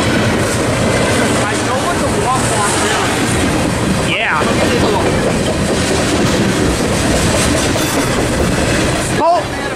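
A Norfolk Southern freight train rolls past loud and near, its steady rumble and clatter continuing throughout, with a few squeals rising briefly above it.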